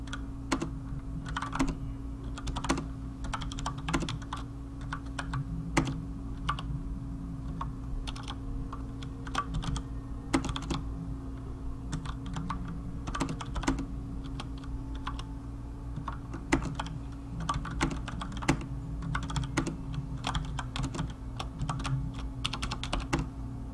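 Steady computer keyboard typing of a chat message during Path of Exile bow crafting, with rapid, irregular key clicks close up running continuously with brief pauses and no voices.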